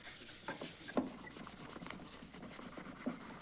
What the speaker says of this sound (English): Try and get your thumb into these little cracks with a little bit of the sandpaper, a corner of it, and just rub.